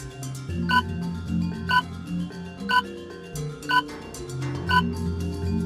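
A frog croaks in a regular rhythm, about one loud call per second, close and clear, with softer lower croaking continuing underneath.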